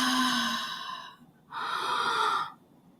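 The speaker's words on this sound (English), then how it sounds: "you open your mouth to take a breath and you release" Two slow, deliberate breaths taken through an open mouth, each a long airy rush that fades out, separated by a short pause, close and quiet with no talking.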